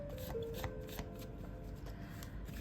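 A deck of tarot cards is shuffled up close, a steady papery riffling and sliding that runs continuously without talk.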